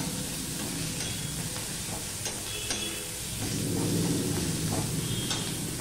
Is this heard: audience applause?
no